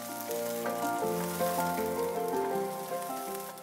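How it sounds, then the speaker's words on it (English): Garlic, ginger and red onions in a tablespoon of avocado oil in a non-stick pan over medium heat make a steady, close sizzle, with soft background music playing throughout. "1 tablespoon avocado oil, garlic, ginger, and red onions. Saute for about a minute."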